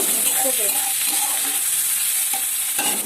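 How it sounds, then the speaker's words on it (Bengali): Chopped tomatoes fry with pasta ingredients in a pan, giving a steady broad sizzle with a few light stirring scrapes and clinks, close and continuous throughout. "এখন আমি এগুলো সব একসঙ্গে ভালো করে একটু ভেজে নেব"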